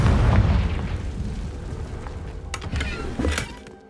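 A Confringo fire spell blasts off in Hogwarts Legacy, a loud booming burst at the start that rumbles and fades, with a couple of smaller crackling pops trailing after it.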